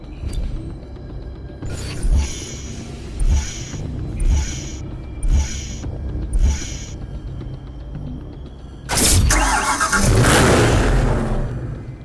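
Bugatti Veyron engine in NFS Hot Pursuit Remastered, loud and close, with a run of short rhythmic revving bursts and then a sustained roaring surge near the end.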